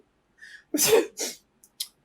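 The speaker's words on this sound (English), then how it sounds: "and then I'm gonna sneeze." A single close, sharp sneeze preceded by a quick inhale, followed by a short breathy sniff.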